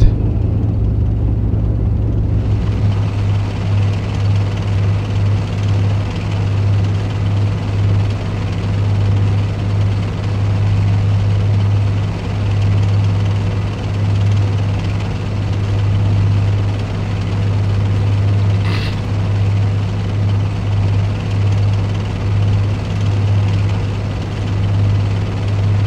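A helicopter in the Steel Beasts tank combat game, heard as a steady loud droning engine and rotor hum with a strong low tone throughout, no voices present.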